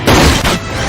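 A firecracker explodes in a horror film scene, a short loud boom with a broad burst of noise that trails off within a second.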